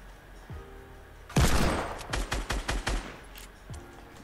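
Sniper revolver gunshots in the Fortnite video game, a loud crack followed by a rapid series of about six sharp shots, with quieter mechanical clicks before and after.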